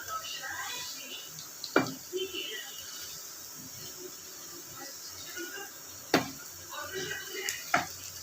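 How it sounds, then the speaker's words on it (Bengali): Papaya pakoras fry gently on a low flame in a pan, a soft, steady hiss broken by a few sharp spatula clicks as they are turned, with a voice talking quietly over it. "তো একটু হালকা করে হালকা আঁচ এটা ভেজে নেবো"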